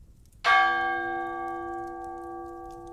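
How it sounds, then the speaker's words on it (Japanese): One bell is struck a single time, a clear ringing clang that sustains and slowly decays over a quiet background. "鐘を一つ打ちます。"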